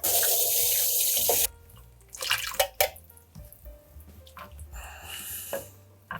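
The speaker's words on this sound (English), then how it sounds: "we're just gonna pour a little bit of water in these cans and clean them out" Water runs from a tap into empty tomato cans to rinse them in a kitchen, a loud steady gush first, then splashing, sloshing and clinking of the cans.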